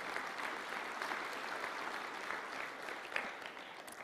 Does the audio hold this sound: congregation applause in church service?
yes